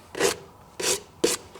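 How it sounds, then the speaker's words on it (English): Sanding a Harley 45 battery box by hand: three rough, rasping strokes of about 0.2 s each, close and loud, with short pauses between them and no talk. "I've been sanding on this box for, I'd say at least a solid 2 hours tonight."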